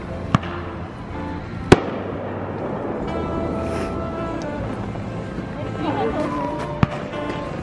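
New Year's Eve fireworks go off outdoors, giving a few sharp, scattered bangs over a continuous rumble of more distant bursts while people talk nearby.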